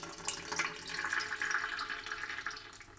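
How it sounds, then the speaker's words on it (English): Fluid pours from the radiator of a 2005 Ford Explorer Sport Trac XLT in a steady, close splashing stream that surges and trickles slightly while draining, with no voices over it. "So loosen your radiator cap to get it to fully drain."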